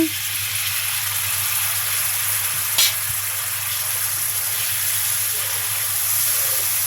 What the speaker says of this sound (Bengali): আমি ঝোল দিয়ে দিচ্ছি।